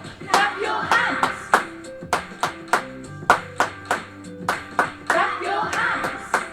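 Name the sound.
children clapping hands to the pulse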